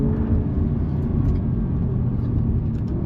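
An Alfa Romeo Giulia Quadrifoglio driven in race mode on a track, its engine giving a loud, steady deep roar with a rumbling low end, heard close and without talk.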